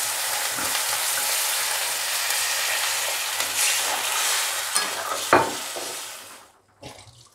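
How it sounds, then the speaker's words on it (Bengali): Masala paste for an egg curry fries in oil with a steady, close sizzle and occasional scraping stirs, the hiss fading out near the end. "ভাজা ভাজা হয়ে তেলটা না বেরিয়ে আসা পর্যন্ত এটা ভাজা হতে থাকবে মাঝে মাঝে নেড়ে দিতে হবে"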